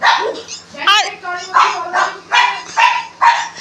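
Dogs, including a black female, bark outside a rural home. Loud, close barks and yips come in a steady series of about six bursts, with a brief whine among them.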